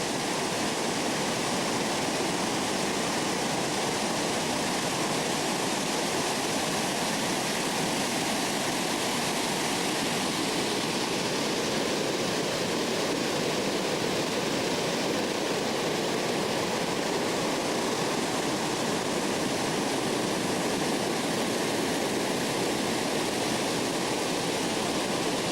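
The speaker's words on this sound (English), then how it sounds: "another one of the fast-flowing mountain streams coming down to the Gurgl River." A fast-flowing mountain stream pouring down toward the Gurgl River at Obergurgl, a loud continuous rushing roar of water close by, steady throughout with no voices.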